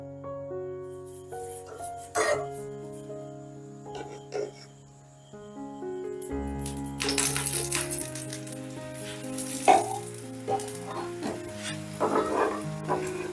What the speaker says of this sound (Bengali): এবারে ওপর থেকে দিয়ে দিচ্ছি তেল